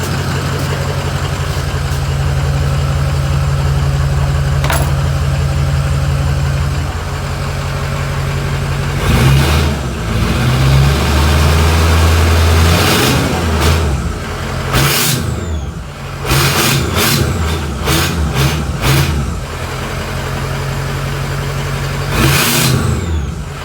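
A Ford 6.0 Powerstroke V8 diesel, swapped into a 1986 bullnose pickup with no exhaust fitted, idles loudly up close, then revs in several bursts with a rough, raw, unmuffled roar.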